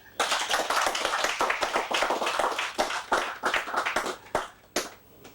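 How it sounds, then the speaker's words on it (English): An audience claps for traditional cultivators at a gathering, a dense burst of hand claps that thins out toward the end. "a round of applause"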